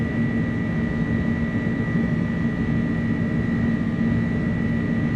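Airbus A300 engines spooled to takeoff power in Microsoft Flight Simulator 2024, a steady, loud, continuous roar with a deep rumble and a high whine, unbroken and alone.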